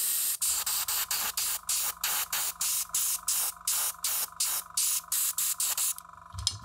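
An airbrush rinses resistors on a circuit board, firing a steady run of about a dozen short, sharp spray bursts with brief gaps between them, close and alone.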